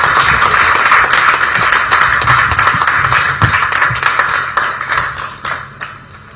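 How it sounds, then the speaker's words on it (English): An audience at the 2024 UACE results release in Uganda claps steadily, a dense wash of hand claps that gradually thins and fades toward the end, with no voices. "Can I ask all of us to clap for our dear minister before I invite her?"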